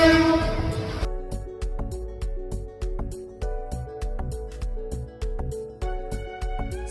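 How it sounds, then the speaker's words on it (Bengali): A passenger train stands at a railway station platform in Sylhet, Bangladesh, with a loud horn blast at the start followed by steady rhythmic clacking and rumbling of the carriages, close and prominent without talk. "প্ল্যাটফর্মে অলরেডি আমাদের ট্রেন পৌঁছে গিয়েছে।"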